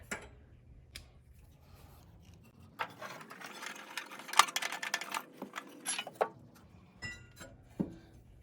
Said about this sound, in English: I'm going to use my 8mm wrench and break it loose. And I'll probably switch to the 5/16 nut driver.